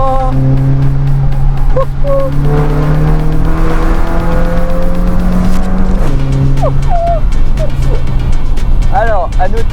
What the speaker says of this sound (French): c'est un 4 cylindres, les gars, on dirait une voiture de course.